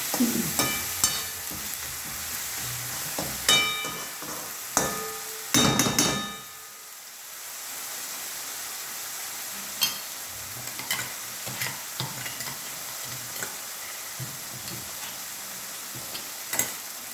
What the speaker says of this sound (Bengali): দেখো বন্ধুরা, আমার মশলাটা একদম ভালো করে ভাজা হয়ে গেছে।